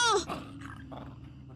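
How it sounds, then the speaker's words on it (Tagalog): A large dog gives a low, throaty growl up close, starting with a sharp vocal burst and then rumbling on steadily and more quietly. "May malaking aso dito!"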